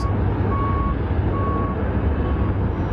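Trucks reversing at night sound steady, evenly spaced high beeps over a loud, dense rumble of heavy diesel engines idling and moving nearby, with no speech.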